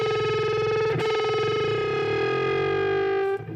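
Two bent pitches, heavily distorted and effected, sustain together, and their difference tone beats audibly, the steady buzzing tone wavering in pulses before cutting off near the end.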